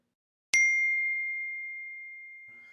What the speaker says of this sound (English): We got bells, notifications going off.